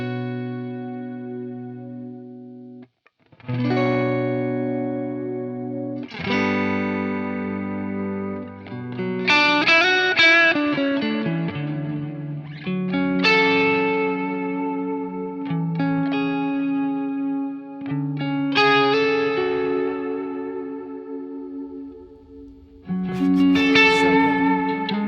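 An electric guitar played through a Keeley Halo dual echo pedal rings out in sustained, layered phrases with clear repeats and a wide ambient wash, loud and continuous apart from a brief gap near the start, with no voices.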